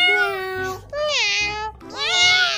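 A cat meows three times in a row, each call drawn-out and rising, loud and close with short gaps between.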